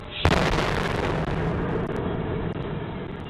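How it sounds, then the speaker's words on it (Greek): Bomb blast on Stadiou Street in Athens, opposite the Labour Ministry, picked up by a kiosk security camera: one sudden deafening boom that holds as a long roaring rumble for several seconds. "Σε κάμερα ασφαλείας περιπτέρου στην οδό Σταδίου αποτυπώνεται ο εκοφαντικός θόρυβος από την έκρηξη βόμβας απέναντι από το Υπουργείο Εργασίας."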